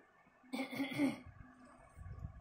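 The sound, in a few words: child coughing on request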